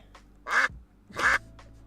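Ducks quacking close by, two loud, raspy quacks about a second apart with softer calls around them over a low background hum.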